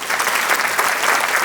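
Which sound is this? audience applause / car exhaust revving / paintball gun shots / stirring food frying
audience applause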